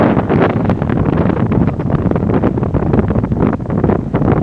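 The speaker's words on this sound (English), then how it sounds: "Very windy beach, guys." Strong wind roars continuously across the microphone on a beach in Bouddi National Park, loud and buffeting, with no voices heard.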